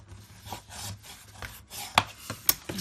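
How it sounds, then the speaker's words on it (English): Close, quiet rubbing strokes of a burnishing tool pressed across a paper note pad cover, a series of short scraping swipes with a few sharper scuffs near the end. "just take your tool and burnish"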